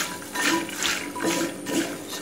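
Water is sprinkled over cut vegetables for aviyal in a home kitchen, giving soft intermittent splashes and patters in a few brief bursts, close and moderately quiet.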